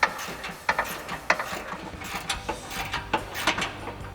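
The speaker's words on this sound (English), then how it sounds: "We're gonna go ahead and slide our 10 mil socket and extension on our ratchet." Hand ratchet with a 10 mm socket and extension loosening bolts on a 2021-2023 Ford Bronco frame rail, giving irregular bursts of sharp metallic clicks, close and clear with no talking.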